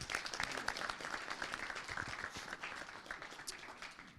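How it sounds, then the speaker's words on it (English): Steady applause from an investor panel audience in Las Vegas, dense clapping at a fairly quiet, even level for a few seconds without a break. "Now you'll give them all a round of applause"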